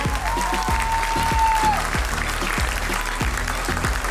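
An audience claps at a function, with rapid, dense applause that stays steady and fairly loud throughout, plus a faint whistle early on.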